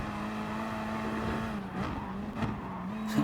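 Gr3 race car lapping the Nordschleife in Gran Turismo Sport, a steady loud engine drone with brief tire squeals and a few gear shifts, heard alone without talk.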